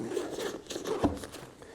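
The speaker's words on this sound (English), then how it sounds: "If you unzip this AquaGuard zipper" An AquaGuard zipper on a Western Rise Voyager sling bag is pulled open in short, quiet scratchy bursts, close to the microphone, with no talk.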